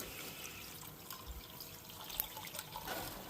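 Water trickles and splashes faintly through a homemade sluice machine built for catching ultra-fine gold, a soft continuous flow with small irregular drips and gurgles.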